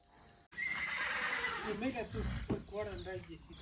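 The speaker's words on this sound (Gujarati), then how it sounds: "એવો આ ગજરાજ ઘોડો છે ભાઈ" A Kathiyawadi horse on a farmhouse lets out a loud, close whinny that rises and wavers, then breaks into shorter snorting neighs.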